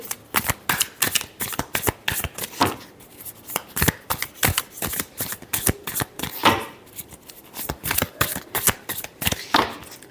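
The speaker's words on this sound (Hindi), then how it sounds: "Last shuffle." Tarot cards are shuffled by hand in quick, crisp riffles and ruffles, close and clear, coming in rapid bursts with short pauses between them, no voice over it.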